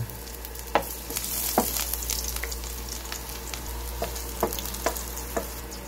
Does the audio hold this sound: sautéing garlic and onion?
yes